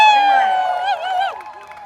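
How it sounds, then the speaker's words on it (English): A crowd at an Indigenous land back gathering in Portland, Oregon lets out a war whoop, many voices joining in a sustained, wavering high cry that fades toward the end. "let's give them a war whoop"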